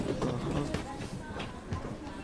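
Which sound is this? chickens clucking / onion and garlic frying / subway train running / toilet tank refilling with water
subway train running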